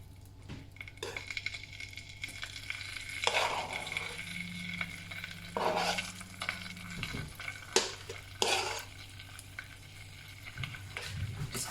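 Butter and cream hit a hot pan and hiss in short sizzling bursts, joined by the clink and scrape of a utensil stirring against the metal, close up and with no talking.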